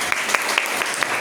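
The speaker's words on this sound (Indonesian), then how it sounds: "Tepuk tangan buat teman-teman." Congregation applauding during a Sunday church service, a steady patter of clapping with a few sharper accents, fairly distant and moderate in level, with no talking.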